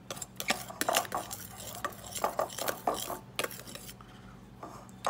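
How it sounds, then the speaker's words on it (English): A spoon clinks and scrapes against a bowl while dry scone ingredients, including baking powder, are stirred together, making a quick run of irregular close taps and scrapes that fade near the end. "I'm going to give that a quick stir around just to incorporate the ingredients."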